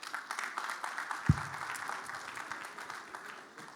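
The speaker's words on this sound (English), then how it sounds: "Please, another round of applause for Jason Taylor." Audience applause after a goodwill message at a formal meeting, a steady wash of many hands clapping at moderate distance with one sharp thump early on, continuing evenly to the end.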